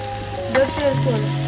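Chicken pieces frying in hot oil in a pan for Konkan chicken kaul fry, a steady close sizzle with a few brief stirring scrapes, no talking.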